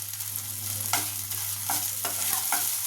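Ginger-cumin paste and green chilli fry in a pan for a rohu fish curry, a steady low sizzle with periodic scraping stirs and a constant hum underneath.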